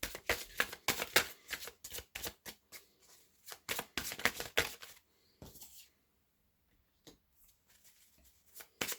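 A deck of tarot cards being shuffled and handled close up, with rapid riffling, flicking bursts, quieter gaps, then a few soft isolated card slaps, no talk.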